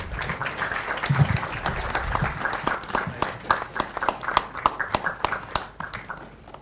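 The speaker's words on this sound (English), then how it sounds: "May we have a huge round of applause." An audience at an engineering foundation day celebration applauds, a mix of many hands thinning to a few distinct, sharp claps that fade toward the end.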